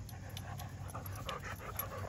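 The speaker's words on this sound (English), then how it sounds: "These two dogs will be good at tug-of-war here." Two dogs pant quickly and rhythmically while tugging at a shoe between them, soft and close, with no talking.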